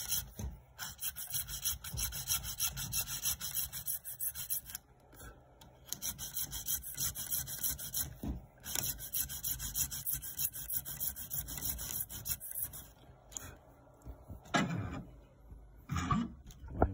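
Continuous rough scraping of a bone guitar saddle rubbed back and forth on sandpaper, steady strokes with brief pauses, close and fairly loud.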